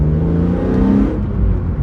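A BMW E46 M3 engine, suffering a head gasket failure, revs steadily and loudly during a downshift from inside the car, a dense continuous drone with no voices over it.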